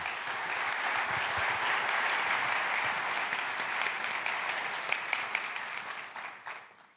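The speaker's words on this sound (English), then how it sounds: "Please give him a big round of applause." An audience at a CES 2024 keynote claps loudly and steadily, the applause holding for several seconds before tapering away.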